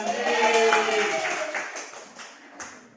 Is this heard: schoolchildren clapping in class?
yes